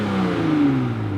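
A Toyota engine in non-sport mode revs briefly, the pitch rising then sliding back down in a smooth, muted swell, fairly close with no voices.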